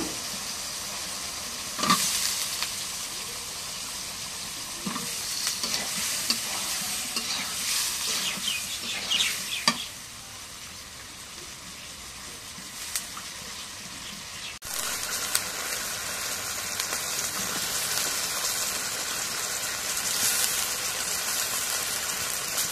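Cauliflower and potato pieces fry in a pan, giving a steady, close sizzle with stirring scrapes and occasional clatter, the tone brightening partway through as the frying settles.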